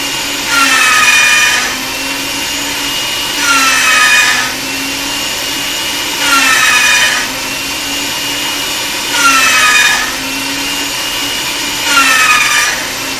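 Polymer clay run through a pasta-style rolling machine for plain folding, a rhythmic grinding whir that swells about every two and a half seconds, five even passes, close and steady with no talk.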